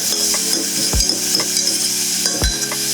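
Local seasoning sautés loudly in a hot pan, a steady close sizzle broken by a few sharp scrapes of a spoon stirring the mixture.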